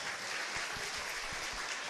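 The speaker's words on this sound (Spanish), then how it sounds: "Denle ese aplauso al Señor." Applause from a church congregation, a steady dense clatter of many hands sustained evenly throughout at moderate volume, with no voices.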